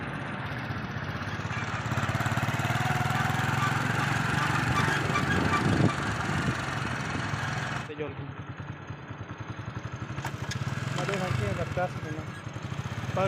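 A motorcycle engine runs steadily and revs up as the clutch is let out, a continuous mid-pitched drone under overlapping voices, with a brief dip partway through before the engine note climbs again.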